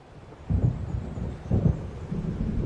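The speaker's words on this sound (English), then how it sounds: "It seems there's a storm coming." A thunderstorm in the video game Alan Wake Remastered, with low rumbling thunder rolling in two or three swells over a steady wash of rain, moderately loud and without talk.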